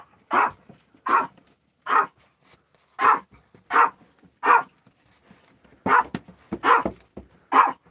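A dog barks in short sharp bursts, about ten barks in an uneven rhythm with brief pauses, loud and close, alone without talk.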